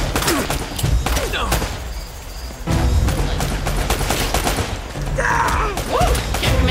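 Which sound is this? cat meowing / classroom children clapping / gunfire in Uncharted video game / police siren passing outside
gunfire in Uncharted video game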